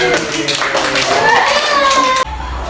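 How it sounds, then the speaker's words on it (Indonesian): A classroom of students claps for two classmates, a quick burst of hand clapping mixed with children's voices, close and loud, ending abruptly. "tepuk tangan untuk Kafi dan Adik"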